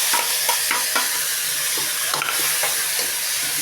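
Tomatoes sauté with garlic and onion in hot oil, a dense continuous sizzle with rhythmic scraping stirs of a spatula against the pan, close and loud.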